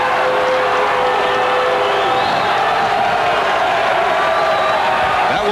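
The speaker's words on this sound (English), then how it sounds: "That woke up the crowd." Basketball crowd in a gym at a Rutland vs. Mount St. Joseph boys varsity game in 1991 roars in sustained cheering, loud and continuous throughout, with whoops rising above the broad wash of voices.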